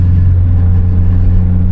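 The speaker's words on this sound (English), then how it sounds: "It'll rev, free rev like that, like a dang motorcycle engine." Turbocharged Mazda Miata engine free-revving with a lightweight flywheel, a loud, steady close-up drone with strong low rumble and no rise or fall over the short stretch, heard alone.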